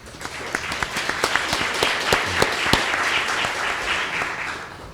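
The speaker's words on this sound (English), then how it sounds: "I should just stop if I get applause already" Audience applause at a panel discussion, a dense burst of many hands clapping with sharp individual claps standing out, loud and close, tapering slightly toward the end.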